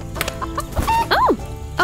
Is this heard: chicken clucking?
yes